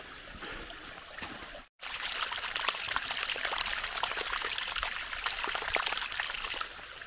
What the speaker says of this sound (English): you can see the stream coming down the path, so it's all melting anyway